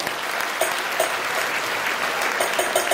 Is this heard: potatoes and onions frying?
no